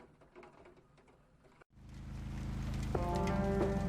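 Rain falls in the point-and-click detective game Kathy Rain. A quieter scene cuts abruptly to a steady, swelling wash of rain with rumbling undertones and a few faint tonal chimes, without talking.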